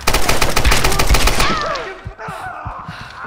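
Rapid enemy gunfire rattles at Lara Croft in the Tomb Raider video game, a dense loud burst of automatic shots for about a second and a half, then scattered single cracks over lingering game noise.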